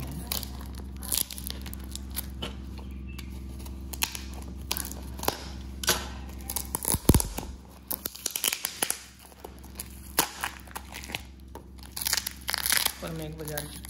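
Packing tape is torn and crinkled while a heavily taped parcel is opened by hand, producing repeated close ripping and crackling bursts with a louder tear midway. Someone talks throughout.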